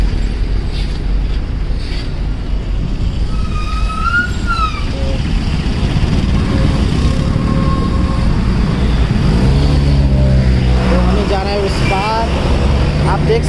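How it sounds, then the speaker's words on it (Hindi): Busy street traffic at a crossing in Nepal on the way to Swayambhu: a constant engine rumble with honks and warbling horn tones from nearby vehicles, and voices mixed into the din. "यहाँ पे थोड़ा ही ट्रैफिक है, हम उसको क्रॉस करेंगे"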